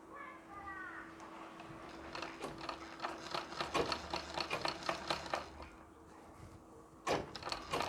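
Domestic sewing machine stitching pressed pleats of a Nauvari saree, a rapid mechanical needle chatter in bursts with short pauses between runs, close and fairly quiet, with a faint steady hum underneath.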